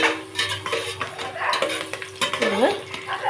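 Mutton biryani base being sautéed in a pan, with a spoon stirring and scraping against the metal in an irregular rhythm over a soft sizzle, close and moderately loud, with no talking.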